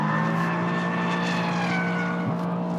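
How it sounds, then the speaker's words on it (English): The big V8 of a Mercedes-AMG C63 S drones loudly and steadily while the car slides sideways, a sustained engine roar with a slight dip in pitch partway through. "thanks to that great big V8, it's got so much torque, it does this."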